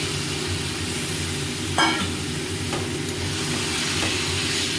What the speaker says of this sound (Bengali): মাংসটাকে দিয়ে দেবো।